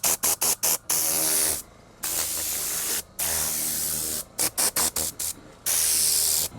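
A TORNADOR air cleaning tool blasts compressed air over car panels in loud, close hissing bursts, several short rapid pulses alternating with longer sustained blasts.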